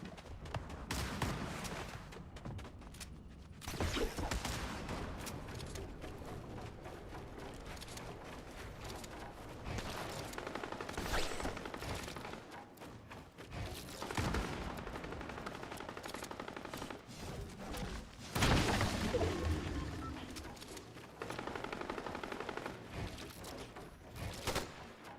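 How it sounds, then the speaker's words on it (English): Long stretches of hip-fired automatic gunfire in a shooter video game, sustained bursts of rapid shots that stop and restart, some close and loud, others more distant, with brief pauses between volleys and no talking. "Let's go towards the sound of Hipfire."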